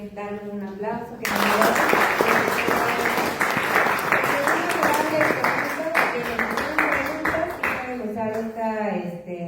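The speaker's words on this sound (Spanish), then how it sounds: "Primero hay que darle un aplauso" Students in a classroom break into sustained applause, a dense burst of clapping lasting several seconds before fading, with voices talking over and around it.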